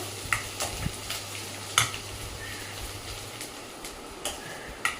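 Black-eyed peas fry in a pan on an induction stove, a steady close sizzle broken by scraping stirs and occasional sharp clinks of the spoon against the pan.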